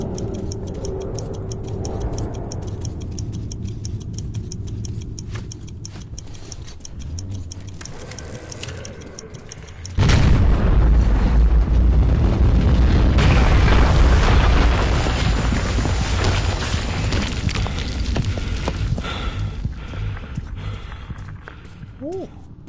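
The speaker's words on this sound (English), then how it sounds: "That was a massive explosion." A massive explosion in the video game Metro erupts as a sudden loud roaring boom. Steady ticking comes before it, and the blast rumbles on for several seconds before slowly fading.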